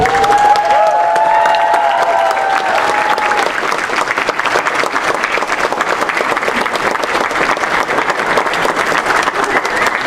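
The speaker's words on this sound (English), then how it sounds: "give a big round of applause to those who really made all of this possible" Loud, sustained applause from a commencement ceremony audience, dense clapping with some cheering and whistles near the start, filling the whole stretch without pause.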